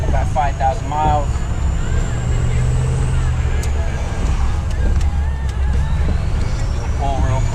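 A Ford 6.0 Powerstroke diesel pickup drives along at cruising speed, a steady low engine drone and road rumble filling the cab, with brief chirps or squeaks over it.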